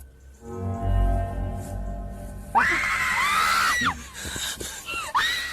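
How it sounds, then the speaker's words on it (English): People scream in fear, with long, high, strained shrieks rising after a low murmuring start, several voices overlapping loudly and then breaking into shorter cries. "We are left filled with screams and confusion."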